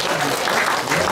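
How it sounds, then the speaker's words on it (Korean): Loud, sustained applause from an audience at a 2017 charity volunteer award ceremony in Seoul, a dense even patter of clapping that fills the whole moment without pause. "큰 박수 부탁드리겠습니다."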